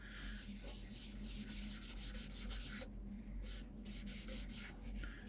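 Beeswax salad bowl finish is rubbed by hand onto a wooden bowl, a soft, steady, rhythmic swishing and rubbing close by over a low background hum, with strokes repeating evenly throughout.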